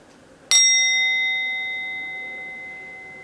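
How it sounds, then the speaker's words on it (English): A heart chakra singing bowl struck once, a sharp attack followed by a clear, sustained metallic ring with several pure overtones slowly fading over about three seconds in a quiet room. "this is a heart chakra related bowl"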